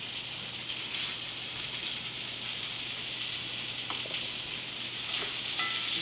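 Vegetables fry in a pan with a steady, close hiss and crackle that carries on without a break, with an occasional faint clink.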